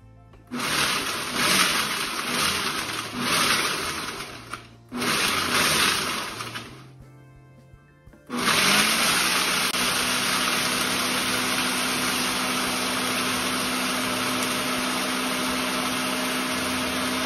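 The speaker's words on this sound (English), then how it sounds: "This is the food processor attached to the base. I'm just using ice in this demonstration." A Ninja food processor attachment on its blender base crushes ice, a loud harsh grinding roar in bursts with brief pauses, then a long steady full-power run.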